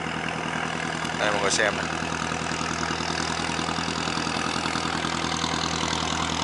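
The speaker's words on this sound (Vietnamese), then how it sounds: "xem chiếc ghe chở lúa nè, đi ngang cái đoạn sông này nha mọi người" A rice-carrying boat's engine chugs steadily as it passes along a river, a loud, close, rhythmic knocking drone throughout, with a short spoken line near the start.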